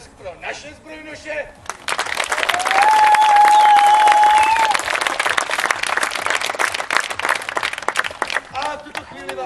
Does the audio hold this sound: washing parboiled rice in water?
no